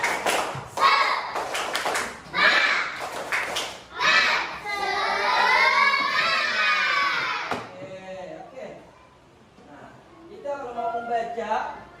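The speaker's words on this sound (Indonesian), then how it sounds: "Oke, kita tepuk tangan dulu semuanya." Schoolchildren in an elementary school classroom clap together in quick rhythmic bursts, led alongside an adult voice, with loud children's chanting and talk between the clapping patterns.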